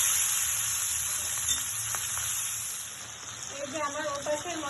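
Marinated puti fish sizzles and fries in hot oil with black cumin in a wok, a steady close hiss with brief crackles and spatters near the end.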